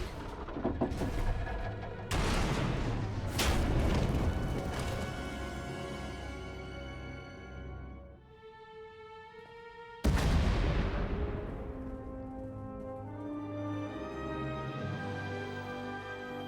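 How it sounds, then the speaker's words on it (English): Several deep booming explosions from the game KOTET, loud and reverberant, with rumbling decay and a sustained tonal hum between blasts, one big blast hitting again midway. "We heard explosions."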